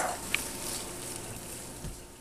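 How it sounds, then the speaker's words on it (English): Finely chopped garlic cloves with a teaspoon of salt sauteing in a pan, a soft steady sizzle with a faint stir near the end, no talking. "Three garlic cloves that have been finely chopped, and 1 teaspoon of salt. And we'll let this saute for about 2 minutes."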